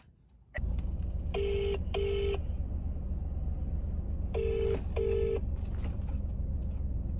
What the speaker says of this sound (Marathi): आता बंटीला कॉन्फरन्सला घेतो.